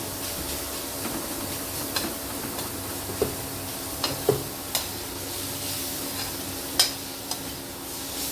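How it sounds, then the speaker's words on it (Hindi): Tomatoes and radish frying in a pan on a gas stove while being stirred: a steady, close sizzle with scattered light clicks and scrapes from the stirring spoon, with no talking. "इसको चलाएंगे थोड़ी देर को, टमाटर हमारा थोड़ा सा भून जाए"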